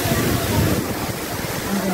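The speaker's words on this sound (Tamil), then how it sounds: "ஒரு அழகான கோவில், அதன் அருகில் கீரிப்பாயும் அழகான அருவி." Steady broadband roar of a waterfall beside a temple at Papanasam, continuous rushing water with low rumble, loud and close with no break.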